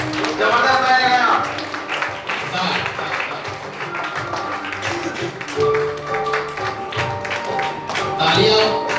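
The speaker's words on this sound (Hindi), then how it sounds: "तालियां रुकनी नहीं चाहिए, मीठी मीठी तालियां लगनी चाहिए।" An audience claps at an achievers' celebration in India, with dense, close applause running continuously while someone speaks loudly over it.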